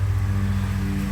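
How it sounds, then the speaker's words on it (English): A neighbor's lawnmower mows nearby, producing a steady, unbroken engine drone with a low humming tone that holds for the whole moment, with no voices over it. "Sorry for the lawnmower."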